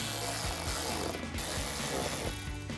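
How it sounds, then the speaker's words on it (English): Ratchet with a 7mm socket tightening screws on a fender liner of a 2021-2023 Ford F-150, a rapid close clicking run of pawl ticks repeating in short bursts, with no talk. "grab a ratchet, 7mm socket,"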